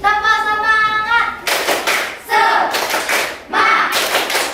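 A classroom of children doing the rhythmic 'tepuk semangat' clapping chant, bursts of loud group clapping in patterned rhythm alternating with a voice chanting, close and energetic.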